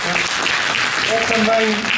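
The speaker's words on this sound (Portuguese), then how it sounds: "agradecer também uma salva de palmas para o Sérgio," An audience at a theatre group gathering claps steadily in a brief round of applause, with voices audible in the room through the clapping.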